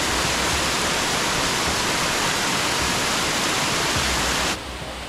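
Loud, close rushing of a small waterfall next to a railway track near Khopoli in the Sahyadri hills, a constant broad roar of splashing water that drops slightly in level near the end.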